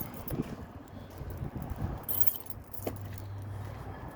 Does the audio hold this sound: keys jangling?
yes